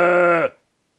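A single sustained sheep-like bleat, loud and close, holding steady for about half a second before cutting off into silence; likely a person imitating the animal.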